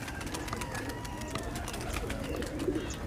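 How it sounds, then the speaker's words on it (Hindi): A flock of high-flying Indian pigeons taking off, rapid fluttering wingbeats in repeated soft bursts, fairly faint and close, with no voices over it. "तो सभी कबूतर उड़ गए"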